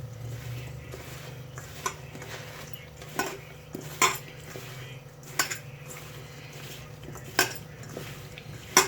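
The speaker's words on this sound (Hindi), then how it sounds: "फिर इसको हम अच्छे से मिक्स करेंगे, हाथों की मदद से करेंगे अच्छे से ताकि इसको मसाला लग जाए।" Lemon, amla and chili pickle being mixed with masala by hand in a bowl. Scattered clinks and taps against the dish sound at irregular intervals over a quiet, steady background hum, with no speech.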